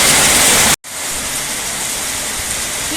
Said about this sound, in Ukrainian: такий дощ, бачите?